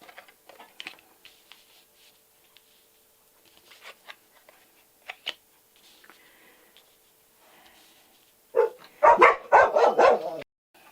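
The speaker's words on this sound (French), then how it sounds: "mes chiens m'ont aboyé" Dogs barking nearby, several loud, rapid yapping barks arriving in a burst near the end after a stretch of faint tapping and rustling in a quiet room.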